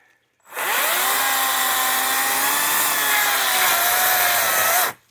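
A Kobalt 14-inch electric chainsaw cuts through tree wood in one steady, loud, continuous whine lasting several seconds, with pitch sagging slightly under load, starting and stopping abruptly.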